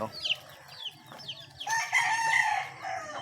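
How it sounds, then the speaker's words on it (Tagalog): Pet chicks and chickens on a farm give a run of high chirps, then rising clucking and crowing-like calls, close and moderately loud with no speech. "Ayun na, mga ating mga alagang sisiw. Nagsasaya sila"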